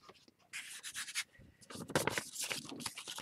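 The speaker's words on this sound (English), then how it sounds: "I'm going to sand it down." Sandpaper rubbing over painted wood, uneven bursts of scratchy back-and-forth strokes, close and fairly quiet, with short pauses between passes.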